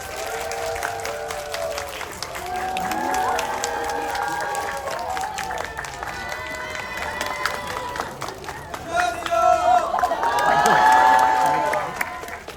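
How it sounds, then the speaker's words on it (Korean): An audience at a movie stage greeting at a Megabox Coex cinema applauds and cheers as the director and actors of the film Victory come on stage, with clapping and shouts building to a louder peak near the end, and voices talking over it. "큰 박수 부탁드리겠습니다"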